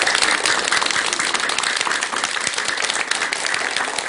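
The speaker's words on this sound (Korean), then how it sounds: "큰 박수 한번 올리시기 바랍니다." A Buddhist temple congregation applauds the monks, sustained dense clapping from many hands that stays loud and even throughout, with no speech over it.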